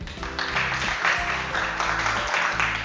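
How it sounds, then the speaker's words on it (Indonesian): Students in a classroom mathematics lesson on indefinite integrals applaud a classmate, a continuous, fairly loud wash of clapping over a low steady hum that carries on through the whole stretch. "Tepuk tangan untuk Ajeng."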